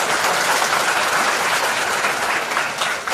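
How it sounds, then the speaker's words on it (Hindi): A crowd gives loud, dense, sustained applause while guests are welcomed at a Hindi-language event, with clapping that stays even and close before easing slightly at the end. "एक बार जोरदार तालियों से।"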